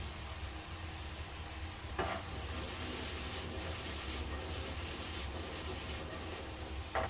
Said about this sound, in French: je commence toujours la cuisson par les légumes les plus longs à cuire. En l'occurrence, dans la recette, ce sont les aubergines